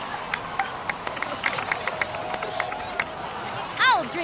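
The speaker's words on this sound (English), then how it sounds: "please give another round of applause for them." In the video game Genshin Impact, a crowd applauds and cheers, a moderate scattered clapping and chatter with a rising whistle-like cheer near the end.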